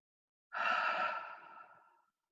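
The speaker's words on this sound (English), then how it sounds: "you could breathe in through your nose, out through your nose, in through your mouth, out through your mouth" A single long, soft exhale during breath work meditation, a breathy sigh that starts suddenly and fades gradually over about a second and a half, close and quiet.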